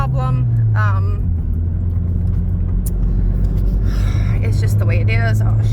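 A small manual-transmission car drives along with a steady low engine drone, the pitch dropping and rising again as gears change, while someone talks over the cabin rumble.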